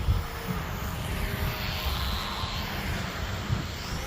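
An SF260 radio-controlled model airplane flying slowly over an open park, its steady engine drone a faint continuous hum beneath broadband wind noise throughout, with no talk.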